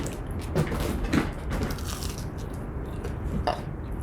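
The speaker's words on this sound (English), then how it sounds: "I love these chicken nuggets." Close, fairly loud biting and chewing of chicken nuggets, with several crunchy bites and wet mastication running steadily through, no talking.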